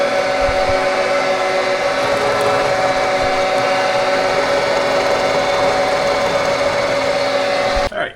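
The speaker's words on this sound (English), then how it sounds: "Now I'm going to come back with an end mill and slot out the middle" An end mill slots through steel scrap plate for a bumper build, a continuous loud machining whine with steady high tones running throughout, cutting off abruptly at the very end.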